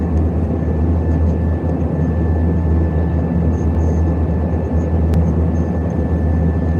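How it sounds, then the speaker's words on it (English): Steady, loud drone of a Dornier 328 turboprop regional airliner in flight, heard from inside the cabin as a continuous low rumble with a faint high whine, unbroken throughout. "Flying a Donia 328 aircraft. It's a turboprop that seats about 31 passengers."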